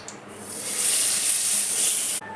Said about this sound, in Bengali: বাকি যে মাছটা আছে সেটাও ভেজে নেব।